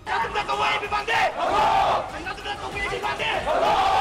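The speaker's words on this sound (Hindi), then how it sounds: "छात्रों ने सरकार के खिलाफ एक रैली निकाली और जमकर नारेबाजी की" Students at a protest rally near the Manipur assembly chant slogans together as a crowd. The shouts rise and fall in loud, rhythmic bursts.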